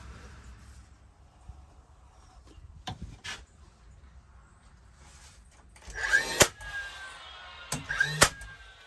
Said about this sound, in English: To attach the face trim, we're just going to put a little bit of glue on the back and secure it with some 18 gauge brad nails.